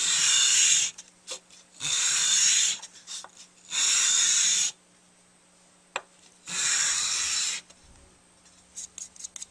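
A wooden tabletop being cut and scuffed flat by hand, four long rasping strokes with quiet pauses between, then a few short light scrapes at the end.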